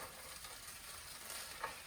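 Frozen peas being stirred into fried rice that sizzles quietly in a pan, a soft steady frying hiss with faint scraping stirs and one brief clink near the end.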